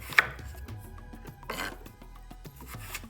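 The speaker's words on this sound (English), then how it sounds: "I'm just cutting it into quarters." A knife cuts an eggplant into quarters on a board, with a few scattered close thuds and scraping cuts among quiet gaps and a low background hum; no voices.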